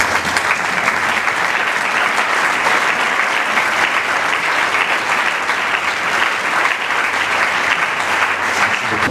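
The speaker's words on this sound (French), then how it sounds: "Un acclamant très fort pour le Seigneur." A congregation at a church service claps loudly and steadily for the Lord, a dense, continuous wash of applause holding at an even level throughout.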